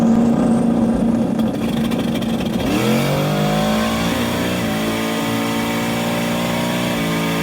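Mustang GT launching hard from 0 to 60, engine roaring loudly and climbing through revs with an audible gear change, a continuous close, aggressive acceleration.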